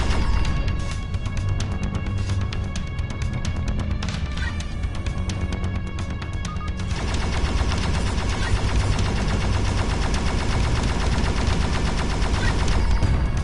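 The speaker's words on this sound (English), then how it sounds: "Oh no, he's shooting back." Sustained video game gunfire from enemies shooting back in End Space, a PS4 PSVR space shooter, with dense rapid bursts layered over a continuous loud mix of game music and effects for the whole stretch, no talking.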